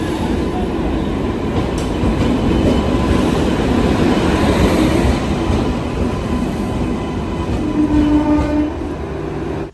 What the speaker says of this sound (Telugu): ట్రైన్ అయితే వచ్చేస్తుంది.